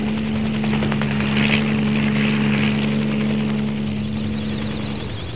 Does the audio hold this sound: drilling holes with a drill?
no